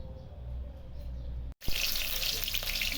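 Tap water runs steadily into a sink while prawns and bananas are washed, a continuous close hiss that briefly cuts out and then returns stronger, with faint clatter underneath.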